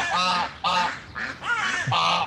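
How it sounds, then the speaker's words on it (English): Ducks and geese quacking and honking up close, five loud nasal calls in quick succession with brief gaps, no talk. "Ducks."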